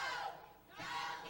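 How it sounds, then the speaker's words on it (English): A wrestling crowd at the Longhorn Ballroom in Texas, 1990, roars and chants during a match, a loud sustained wall of voices that dips briefly midway before surging again. "Crowds picked up the chant of "Go, Kenny, go.""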